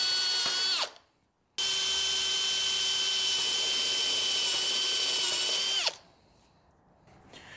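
A power drill bores into a steel welding table, whining loudly and steadily, stopping briefly after a short burst, then running again for several seconds before cutting out.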